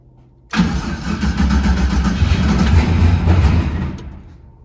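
Chevrolet S10 truck engine starting abruptly after brief quiet, then settling into a loud, steady rumbling idle close by that eases slightly toward the end.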